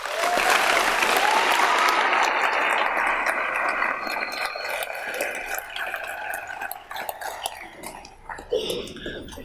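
A graduation audience at the ILCS 2019 senior ceremony applauds its teachers with a dense, loud wash of clapping that gradually thins and fades over about nine seconds.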